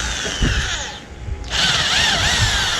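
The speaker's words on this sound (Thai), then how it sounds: "เรามาร์กจุดที่ ที่คิดว่ามันไม่น่าจะส่งผลต่อความแข็งแรงแล้วเราก็เจาะลงไป ไม่ทะลุ" Power drill boring into an engine cylinder part, a loud whining motor that dips briefly as the bit bites, then spins back up to a steady high whine.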